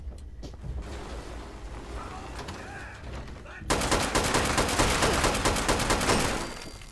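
Gunfire from a gun in Fallout 76, a loud, rapid automatic burst of evenly spaced shots that rattles for about three seconds after scattered quieter shots and ambient noise.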